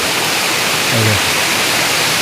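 Waterfall cascading from high on Parasnath Hill, a steady broadband rush of falling water close by and continuous throughout, with a brief low murmur partway through.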